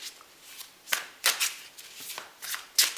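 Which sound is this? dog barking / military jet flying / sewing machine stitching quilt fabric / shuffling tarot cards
shuffling tarot cards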